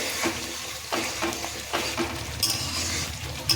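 Prawn malaikari is stirred while it fries in a pan, with scraping spoon strokes at a steady rhythm over a soft, continuous sizzle.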